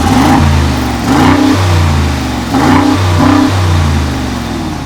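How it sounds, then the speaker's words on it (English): Brabus WideStar Mercedes G-Class with its exhaust valve closed, revved in short repeated bursts. Each rise in engine pitch falls back, loud and close, with a muted, deep tone. "this is the exhaust in its valve closed position"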